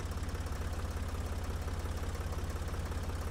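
A tractor engine idles steadily in the farming game Professional Farmer 2014, a low, even throbbing pulse that holds constant and fairly loud with no voices over it.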